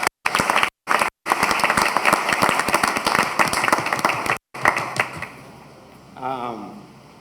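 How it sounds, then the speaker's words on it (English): Audience applause at an annual meeting, a dense burst of clapping from a crowd lasting several seconds before fading, with a voice speaking briefly at the end. "A round of applause."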